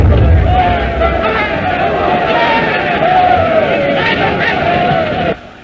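An agitated crowd gathered outside after an assassination attempt, a steady excited roar of many voices that continues throughout and cuts off abruptly near the end.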